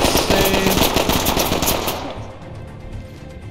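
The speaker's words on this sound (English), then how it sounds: "Getting shot at from outside." Rapid automatic gunfire from outside in the tactical shooter game Ready or Not, a loud dense burst that cuts off after about two seconds and leaves a fading echo.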